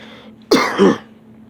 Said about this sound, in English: forget the cough.